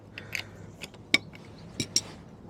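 Wheels on a 1983 Honda Stream NV50 scooter being loosened with a ratcheting tool, giving a few scattered metallic clicks and sharp ticks spread across a quiet background, close up with no talking.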